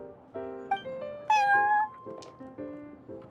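Cartoonish cat meows from a Genshin Impact shop scene at the Cat's Tail, a quick run of several bright, tonal mews and one long rising cry, fairly close and clear with no talking.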